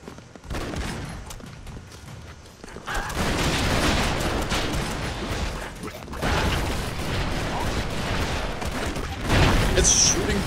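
Rapid bursts of video game gunfire in Broforce, dense crackling volleys and booms that start sparse, then swell into continuous loud shooting with a sharp pop near the end.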